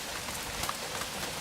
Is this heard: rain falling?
yes